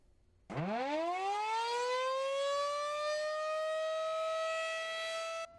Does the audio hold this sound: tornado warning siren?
yes